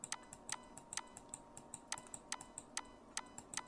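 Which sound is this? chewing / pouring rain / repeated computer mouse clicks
repeated computer mouse clicks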